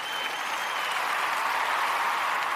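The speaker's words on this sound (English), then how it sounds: "Can we play the applause effect?" A canned applause sound effect played on a business podcast: a continuous, even wash of crowd clapping, bright and unbroken for a couple of seconds.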